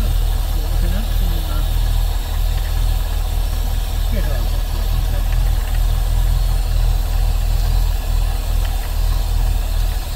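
A Rover P6 V8 automatic settles into a smooth idle close by, its low, steady rumble running throughout, with voices speaking briefly in the foreground.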